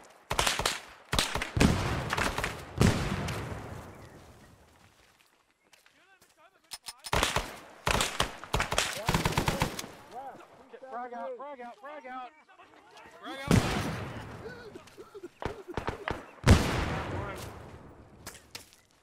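Gunfire and explosions from a World War II combat video game crackle in loud, choppy bursts, with one calmer stretch between them, while voices shout over the battle.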